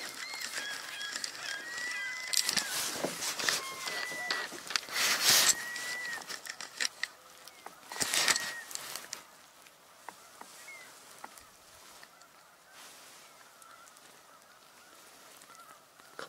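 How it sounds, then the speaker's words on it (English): Pair of swans flying past outdoors, giving a series of honking calls that are loudest early on and fade into distant, fainter calls as the birds move away. "Couple swans flying by."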